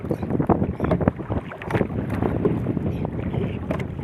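Strong wind buffets a small fishing boat on choppy water beside a fish corral, with dense rumbling wind noise and water sloshing against the hull, steady and close throughout.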